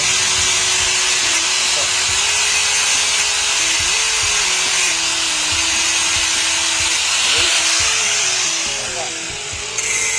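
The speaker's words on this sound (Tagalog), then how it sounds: "So, grinder lang yan." A grinder runs steadily and loudly in a motorcycle workshop while a bike is modified to shift like a TMX155, its harsh whine holding near-constant for the whole stretch with slight shifts in pitch.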